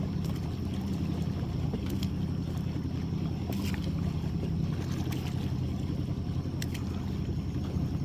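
A trotline crab fishing boat idles slowly across the water, its steady low engine rumble continuous and close, with wind buffeting the microphone and faint splashes along the hull.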